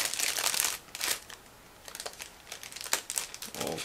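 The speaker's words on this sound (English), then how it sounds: "we are going to open it with scissors" A sealed plastic bag holding a Miniart 1/35 US Jeep crew model kit is cut open with scissors, producing close, bursty crinkling and rustling of plastic with short pauses between handling.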